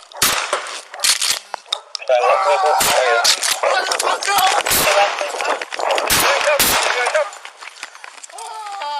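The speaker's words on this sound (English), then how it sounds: "Shots fired, subject down, send in fire." Gunfire in a police officer-involved shooting in San Rafael: several sharp, loud shots crack out at irregular intervals over frantic shouting voices.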